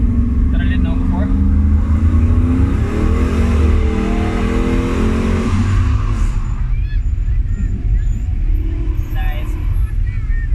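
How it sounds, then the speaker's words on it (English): Cars doing burnouts at a street car meet, loud sustained engine roar and revving with tire noise filling the scene, while voices talk throughout amid crowd noise. "Yeah, a couple people doing burnouts."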